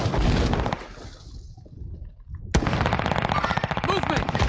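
Bursts of automatic gunfire ring out in Call of Duty Warzone, a rapid stutter of shots that fades into a brief lull before a sharp crack and renewed, dense firing.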